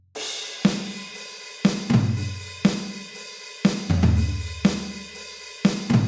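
A drum kit plays a steady pattern of snare and cymbal hits roughly once a second, with no deep kick thumps underneath.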